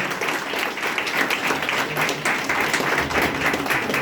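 An audience at a Shivaji Jayanti celebration ceremony gives a steady round of applause lasting the whole stretch, dense and fairly loud, with no one speaking over it.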